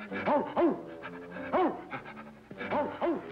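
A man imitates a dog, giving short rhythmic bursts of panting and whimpering yelps in clustered pairs, close and fairly quiet, with brief pauses between.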